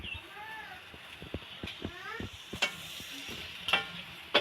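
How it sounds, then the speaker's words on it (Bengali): Potatoes frying for a chicken curry in a home kitchen, a low sizzle with clinks and scrapes of stirring, while voices chatter nearby and a faint animal-like squeak drifts in. "এই যে চিকেনের আলু ভাজা হচ্ছে"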